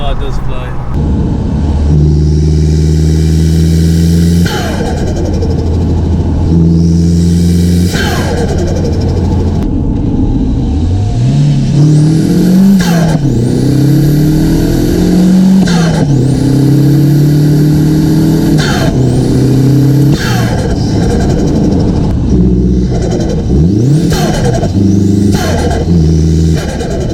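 Home-built Audi A3 1.8T turbo engine pulling hard through the gears, loud and close from inside the car, rising in pitch with each gear and dropping at every shift, with a voice talking over it.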